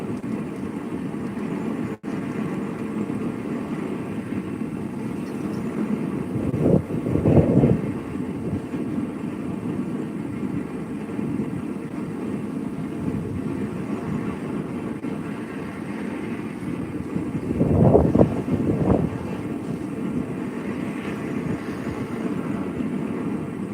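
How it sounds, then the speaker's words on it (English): Strong wind blows outdoors in a steady, rushing roar that buffets the microphone, with two louder gusts swelling up partway through. No one speaks over it. "had to be windy today, didn't it?"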